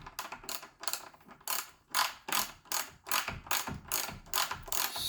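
Ratchet wrench fitted with an 18 mm socket working on a broken Segway Ninebot MAX scooter wheel, giving repeated bursts of close, loud rapid pawl clicking in a steady back-and-forth rhythm with brief pauses between strokes.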